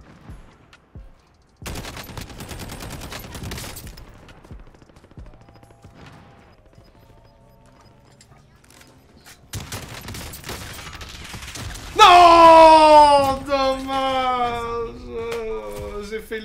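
Gunfight in Call of Duty: Warzone, with bursts of gunfire starting up and rattling on and off, building to a louder flurry of shots near the end over game effects, while a player talks.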